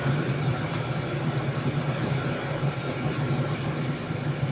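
A Vevor diesel heater runs in a garage as a shop heating build, giving a steady, continuous low hum with a constant droning tone throughout, fairly loud and close with no talking.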